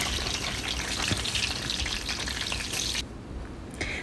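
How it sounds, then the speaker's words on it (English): Store-bought fries crisp in hot oil for gluten-free beer-battered fish and chips, a loud, dense, continuous bubbling sizzle that drops away abruptly near the end. "we're going to start crisping up our store-bought fries"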